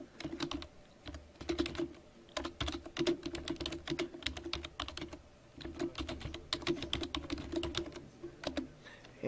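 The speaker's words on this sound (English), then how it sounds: "I'm going to go ahead and type some information down here for the subtitle." Rapid, steady typing on a computer keyboard, close and clear, with quick clustered key clicks and brief pauses while text is entered into a PowerPoint 2010 presentation.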